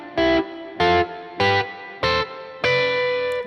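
Five distorted electric guitar chords of paired notes, each struck and held briefly with short gaps between, the last one ringing a little longer.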